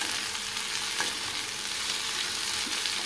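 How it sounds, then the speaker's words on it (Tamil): Pirandai (adamant creeper) sautéing in sesame oil gives a steady, close, even sizzle that runs without a break and with no talk. "நல்லெண்ணெய் பிரண்டை வதங்கிறதுக்கு தேவையான நல்லெண்ணெய் சேர்த்துக்கோங்க"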